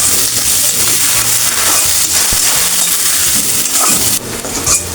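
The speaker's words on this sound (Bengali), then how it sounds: "আমি এখন এটা ভালো করে আস্তে আস্তে ভেজে নেব।" Onion, garlic and ginger fry slowly in a pan, giving a steady, close sizzling hiss with small crackles and scraping clinks throughout, and no talking.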